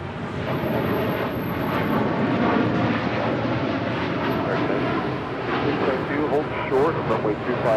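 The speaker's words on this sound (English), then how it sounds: "That is United 231 departing to London on a 787-9 Dreamliner." A United Boeing 787-9 Dreamliner departs runway 25 right at Los Angeles International Airport, a steady, broad jet engine roar that holds loud throughout, with people talking faintly underneath.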